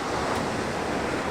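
Steady surf washes on a beach at Marazion on a calm, nearly flat day, a continuous broadband roar of small waves with some wind noise across the microphone and no voices.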